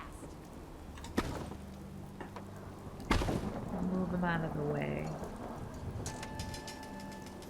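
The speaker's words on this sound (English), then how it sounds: "Look at the rain." Steady rain falls in Fallout 4 around a marina settlement, with a couple of sharp thunder-like cracks and a short spoken remark over the patter.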